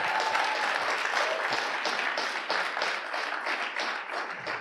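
A short burst of applause, used as an inserted clap sound effect, with dense clapping from a crowd that starts full and thins slightly over a few seconds.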